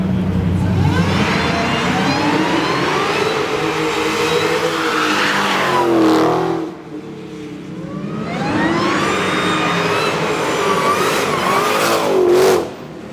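Car engines idle and rev at a Mecum collector car auction in Indianapolis, with a loud, near rev rising around the middle and another building toward the end amid a busy crowd background.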